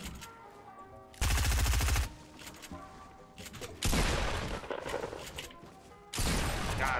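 Video game gunfire in loud sustained bursts, three heavy volleys separated by quieter gaps with background game music and effects.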